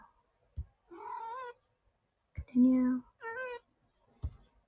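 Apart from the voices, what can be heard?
cat meowing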